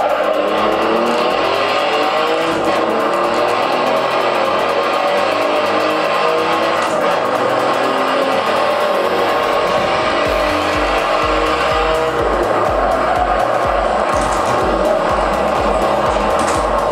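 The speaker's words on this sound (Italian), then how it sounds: "Spinge sta macchina ragazzi, come spinge!" A front-engined, rear-wheel-drive car with 510 horsepower accelerates around a track, its loud engine roaring and revving continuously with tire squeal, close and sustained throughout.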